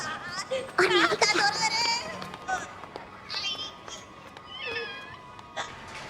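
A cat meows several times in quick succession, fairly close, with short wavering cries and pauses between them over faint background noise.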